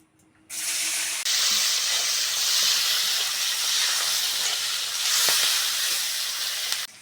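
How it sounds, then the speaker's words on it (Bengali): Onion and tomato hit hot oil, already used for frying onions for a Bengali fish curry, and set off a sudden loud, continuous sizzling hiss that stays strong throughout, without talk. "পেঁয়াজ ভাজার তেলে পেঁয়াজ আর টমেটোটা দিয়ে দেবো"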